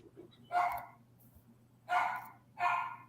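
Three sharp dog barks, close and fairly loud, two spaced apart and a third following quickly, over a faint low hum.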